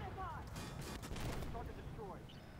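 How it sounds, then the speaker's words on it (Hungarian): A twin machine gun fires in the tank video game Armored Warfare, a dense, continuous rattle of gunfire and battle noise that fills the whole stretch at steady loudness. "Folyamatosan csak ezt a rohadt dupla géppuskát lehet hallani,"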